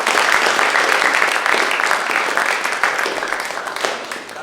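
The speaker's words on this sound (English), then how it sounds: "You can give yourself a round of applause." Festival crowd at Flock Festival 2024 applauds in a dense, continuous wash of clapping, loud and sustained throughout with only a slight easing toward the end.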